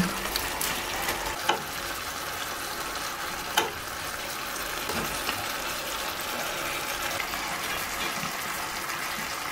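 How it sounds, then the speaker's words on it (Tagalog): Fried fish dropped into a simmering pan of kinamatis, a Filipino tomato stew, setting off a steady close sizzle and bubbling with a couple of sharp pops, no talking. "Ilagay na natin yung pritong isda."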